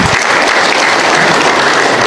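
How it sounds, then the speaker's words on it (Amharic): An audience breaks into loud, sustained applause, a dense and even wash of many hands clapping at once that holds steady without pause and with no voices over it. "ጭብጨባ የለም።"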